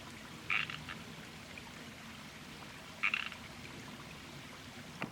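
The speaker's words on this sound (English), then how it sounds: "at night, the frogs are getting so loud down in like the ravine by our house" Two short frog croaks, a few seconds apart, rise from a ravine over a quiet nighttime background hiss.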